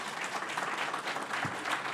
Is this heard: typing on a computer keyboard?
no